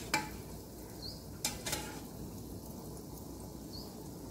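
Gulab jamun fry gently in oil over a low flame, giving a steady faint sizzle with a few brief clinks of a utensil against the pan.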